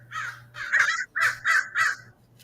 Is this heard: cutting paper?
no